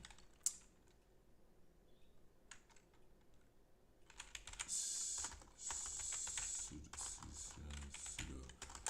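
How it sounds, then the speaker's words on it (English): Computer keyboard typing during FPGA programming work, quiet and sparse at first, then denser bursts of key clatter with some background noise and faint speech-like sounds. "Let me make 99 Upduino rules."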